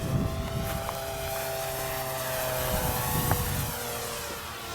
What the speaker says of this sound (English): That's a big plane.